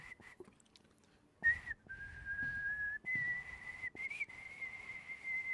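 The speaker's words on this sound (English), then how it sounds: "I can whistle." A person whistles a sustained, slightly airy tune with a few short breaks and pitch shifts, fairly close and alone with no talking.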